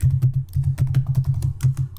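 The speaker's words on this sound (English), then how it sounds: "I'm going to type the text" Rapid, rhythmic keystrokes tap on a computer keyboard for about two seconds, close and clear with no voices.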